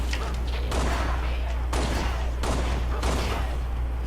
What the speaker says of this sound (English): It is really hard to aim the shotgun.